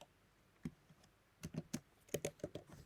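Quiet keystrokes on a computer keyboard while code is written in Roblox Studio, a single tap followed by an irregular cluster of about a dozen crisp clicks.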